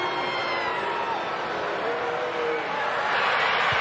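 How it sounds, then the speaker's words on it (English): A rugby league stadium crowd at an NRL match between Newcastle Knights and Penrith Panthers roars in a dense, continuous wash of cheering and shouting, with commentary voices running underneath. "Listen to the crowd."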